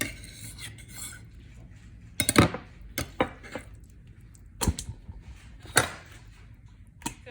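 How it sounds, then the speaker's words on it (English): A knife cuts fresh beef liver into strips on a board, giving sharp irregular taps and scrapes spaced a second or so apart, close and clear with no talking. "You just wanna cut it in strips like this and then put it into your bowl."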